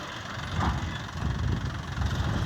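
A John Deere tractor engine idles steadily nearby while working a field with a three-disc, 26-inch plough, a continuous low rumble with slight knocking pulses and no talking.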